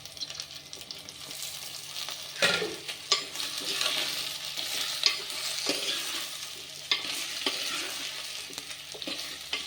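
Vegetables, including eggplant, frying and being stirred in a pan for Tirunelveli sothi: a steady sizzle with repeated scraping stirs and clatters throughout, close and moderately loud, with no talking.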